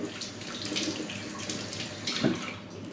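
Tap water runs steadily over dried fish in a kitchen sink, a continuous splashing stream near and moderately loud, with a brief heavier splash toward the end.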